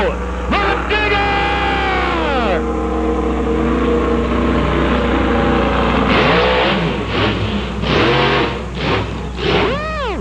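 The Digger monster truck engine revs hard at a live show, loud and sustained with rising and falling pitch sweeps, under a roaring crowd and an announcer's voice.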